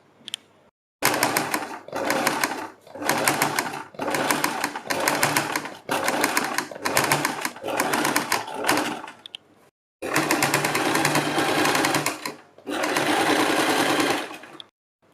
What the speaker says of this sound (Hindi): आपको थोड़ी सी सिलाई लगा के पीछे से हल्का हल्का खींचते रहना है और सिलाई लगाते रहना है